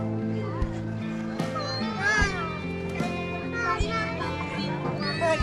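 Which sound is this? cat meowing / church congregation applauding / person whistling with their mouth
cat meowing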